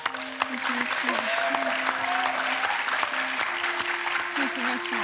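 A studio audience on a Romanian TV game show applauds steadily, with sustained clapping over a continuous musical tone and some voices underneath.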